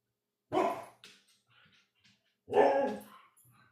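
Two sharp, close dog barks about two seconds apart, each followed by brief softer yips and whines, in an otherwise quiet indoor room.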